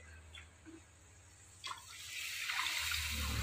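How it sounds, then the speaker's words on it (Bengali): Water is poured into a simmering vegetable curry with potato and eggplant, a soft trickle that swells into a steady, louder splashing rush during the last second and a half. "এই যে জল দিয়ে দিলাম।"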